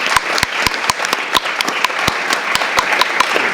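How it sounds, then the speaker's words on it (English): Audience applause for two keynote speakers at the end of a morning conference session, moderately loud and steady, with sharp individual claps standing out through a dense patter of hands for about three and a half seconds. "Maybe another round of applause."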